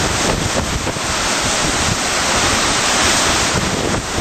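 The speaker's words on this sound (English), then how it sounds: "You can see the waves moving in pretty quickly into that area." Ocean waves surge into a rocky coastal area with a constant loud wash and roar, buffeted by heavy wind noise on the microphone.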